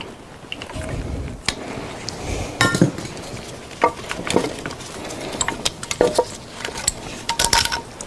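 Metal parts clink and clatter in scattered sharp knocks as the intake manifold comes off a Mercedes Sprinter van engine, close by, with irregular pauses between taps.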